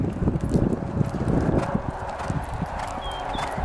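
A horse named Black Cat lopes, its hoofbeats landing close by in a quick, rolling three-beat rhythm over dirt. The pounding is steady and continuous, with faint background noise and no clear talk.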